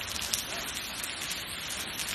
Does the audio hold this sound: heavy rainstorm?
yes